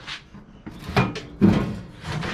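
Heavy metal doors on a big scrap server box swing and thud shut, with a couple of distinct knocks and rattles about half a second apart, close by and otherwise quiet.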